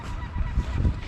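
Geese honk in short, low, muffled calls as they are fed treats, several calls close together over a noisy background.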